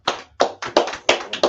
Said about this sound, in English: So clap it up for the brother